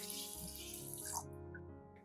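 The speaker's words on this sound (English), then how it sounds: "I prepare a medium-sized pot and pour in about 1 liter of water." Tap water runs steadily into a medium-sized cooking pot, filling it with about a liter, a close continuous splashing pour that fades out at the end.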